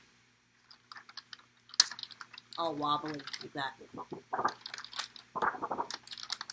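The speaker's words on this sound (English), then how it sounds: "you hear that? That's a thick piece of paper." Thick paper or card used for making small puppets is tapped and handled up close, giving quick dry clicks and crinkly taps in an irregular patter, while a person talks over it.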